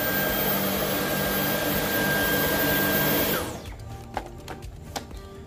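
A Dyson V11 Extra cordless stick vacuum runs loud and steady on carpet in boost mode, its whine holding constant before cutting off abruptly, leaving a few soft clicks and handling knocks.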